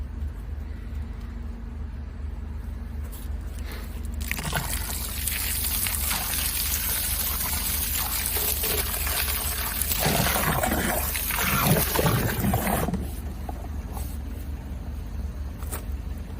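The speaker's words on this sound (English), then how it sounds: "Bubbling." Water bubbles and gurgles steadily in a blocked sewage drain, building to a louder churning stretch midway before settling back to a low trickle.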